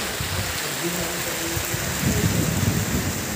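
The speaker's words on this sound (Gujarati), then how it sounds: "તડકામાં વરસાદ આવે છે અને પવન ફૂલ ઉપડ્યો છે." Steady light rain falls in sunshine while gusty wind blows, forming a constant broadband hiss close to the microphone with low rumbling wind buffets, and a person speaks briefly under it.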